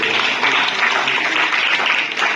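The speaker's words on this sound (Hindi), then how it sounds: "बहुत सुंदर आंसर है, जोरदार तालियां बजाइए।" Steady, dense applause from a crowd at a Durga Saptashati recitation event in Noida, loud and continuous throughout without pauses.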